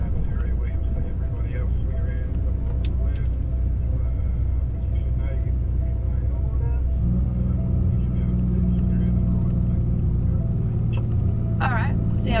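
A heavy truck rolls around a race track toward pit lane with a loud, steady low engine drone that deepens partway through, heard from inside the cab with occasional clicks.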